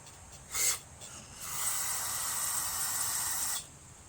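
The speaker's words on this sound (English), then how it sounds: "I'm going to blow this out using multi-purpose parts cleaner and degreaser" Lucas Oil multi-purpose parts cleaner and degreaser sprays from an aerosol can into a small lawn tractor engine part, first a short hissing burst, then a longer steady hiss of about two seconds, close and fairly quiet.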